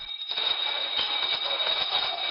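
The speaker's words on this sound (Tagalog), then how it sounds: "maririnig din ang malakas na alarm na umuugong sa buong gusali" Building fire-style alarm blaring steadily throughout an office building in IT Park, Cebu during an earthquake evacuation, a continuous loud high-pitched tone with background commotion.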